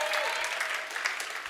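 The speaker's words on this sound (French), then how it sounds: "Est-ce qu'on peut l'applaudir s'il vous plaît?" Live audience applauding steadily at a French stage show, a dense continuous patter of many hands clapping at moderate volume with no break across the moment.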